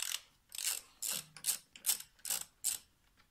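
Ratchet wrench loosening the four cross member bolts under a BMW six-cylinder car, heard as a series of about seven short, sharp clicking bursts close by, evenly spaced with brief pauses between them.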